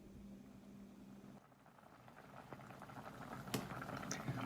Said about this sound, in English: we're going to put this on the stove and bring it to a boil